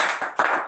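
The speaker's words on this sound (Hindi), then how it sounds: "जोरदार ताली" Audience applause, a brief burst of clapping from a group of people, close and fairly loud, lasting under a second.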